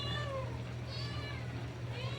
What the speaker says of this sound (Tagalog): Nasanay kasi itong mga pusa, guys, na binibigyan ko kaagad bago ako magluto para di maingay.